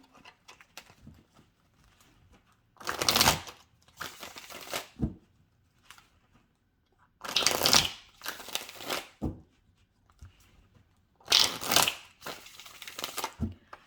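Tarot cards being shuffled and the deck cut: three separate bursts of riffling and slapping card noise, close and crisp, with quiet gaps between them.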